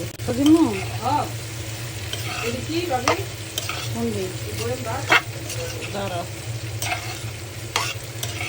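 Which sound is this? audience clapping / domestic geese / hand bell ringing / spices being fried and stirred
spices being fried and stirred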